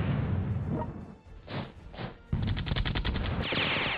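Machine gun fire from a World War II strategy game, March Into Siberia, rattling in dense sustained bursts with brief gaps and a few whooshing shots, loud and close with no talking.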